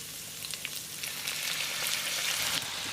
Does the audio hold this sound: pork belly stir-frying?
yes